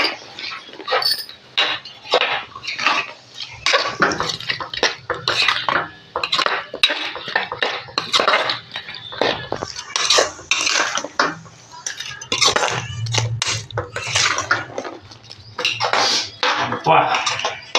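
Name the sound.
mixing dried fish and cucumber pickle ingredients by hand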